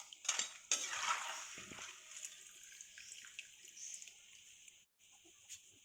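Fried murukku scooped out of a pan of hot oil with a metal ladle, quiet metallic scrapes and clinks over a soft steady sizzle, with a couple of sharper taps near the start.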